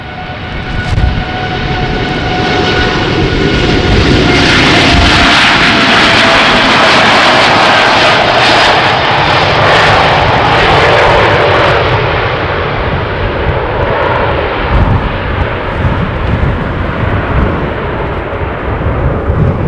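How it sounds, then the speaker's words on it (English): A Boeing 787 Dreamliner departs Amsterdam Schiphol Airport with a loud, broad jet roar. The noise swells to a peak and then slowly fades as the aircraft moves away, and no voices are heard. "Right, Dreamliner already departing."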